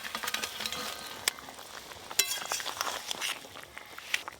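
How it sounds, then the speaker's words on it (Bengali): Fried pomfret pieces going into a simmering curry gravy in a home kitchen, a quiet bubbling sizzle with scattered sharp clinks and scrapes of utensils, close and faint, with no voices. "খুব সাবধানে ঝোলের মধ্যে মাছগুলো একটু ডুবিয়ে ডুবিয়ে দেব।"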